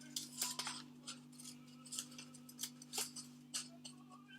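Scissors cut around a paper castle for a primary-school art project, giving a steady run of quiet, crisp snips over a low electrical hum.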